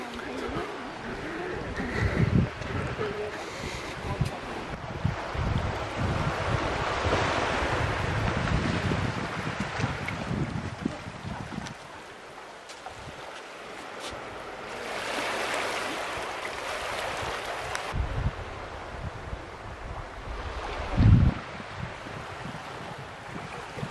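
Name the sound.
waves and wind of the incoming tide on the Pembrokeshire coast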